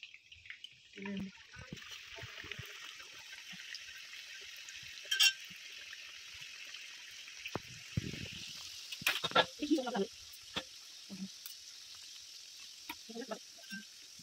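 Coconut-filled pitha dropped into hot oil sets off a soft bubbling fry with scattered spatters and clinks, fairly quiet and close, while someone talks intermittently over it.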